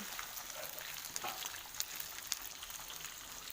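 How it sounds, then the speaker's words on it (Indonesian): Chili, galangal, ginger, lemongrass and lime leaves frying in hot oil for Javanese chicken rica-rica, a steady close sizzle with scattered crackles and pops throughout. "lombok, laos, jahe, sereh, godhong jeruk, digoreng setengah mateng."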